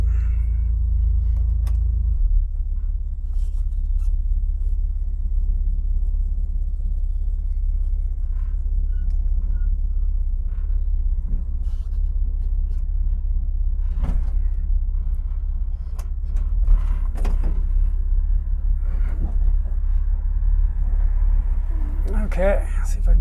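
A 1967 Corvair Monza rolls slowly into a garage beside a parked Corvette, its engine giving a steady, close, low rumble that holds throughout. Speech runs over it, with a few faint knocks and clatters near the end.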